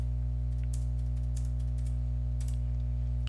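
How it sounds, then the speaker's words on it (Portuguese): Steady keystrokes on a computer keyboard while entering numbers into a C program, a short irregular run of clicks over a constant low electrical hum, with no talking. "Vou digitar aqui o 36, o 4"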